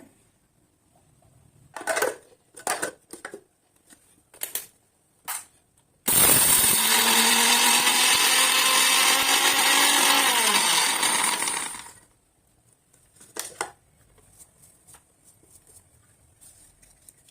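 A mixer grinder grinds spices, turmeric and curry leaves for rasam powder in one loud, whirring burst of about six seconds, with short rattling pulses and clicks before and after.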